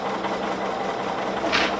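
A sewing machine runs steadily, stitching a quilt seam with a continuous whirring hum and a brief brighter rattle near the end, no voices over it.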